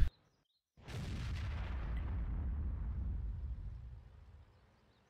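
A single heavy tank gun shot in World of Tanks, a sharp blast followed by a long rumbling boom that fades over several seconds, loud and alone.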